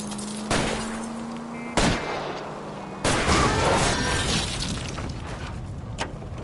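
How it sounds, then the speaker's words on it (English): Gunshots ring out in the LA Noire video game as a driver fires at a fleeing car's tires, with a few sharp shots spaced seconds apart over a steady engine hum. "I'll try to shoot out his tires."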